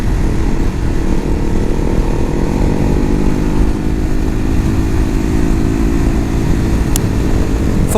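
A motorcycle touring the bumpy, twisting North Coast 500 road in the Scottish Highlands, its engine drone loud and steady throughout with a dense, even rumble from the rider's position.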